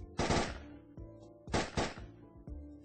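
Guns fired by other shooters in Shooting Range Simulator, a few loud close bursts of rapid shots separated by short pauses, ringing briefly after each volley with no talk.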